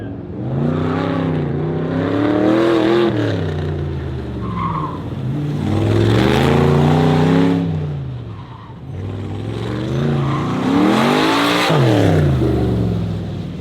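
A 1968 C3 Corvette pro-touring car, nicknamed Green Mamba, driven hard with its engine revving up and down in loud repeated surges, with tires squealing between pulls.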